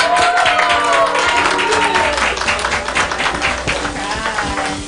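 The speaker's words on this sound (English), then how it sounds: "Let's hear a round of applause for Wedaga" Loud crowd applause and cheering for the winner of a Ghanaian beauty pageant, dense and continuous throughout, with voices and whoops mixed in.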